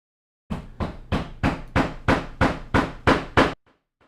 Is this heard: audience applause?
no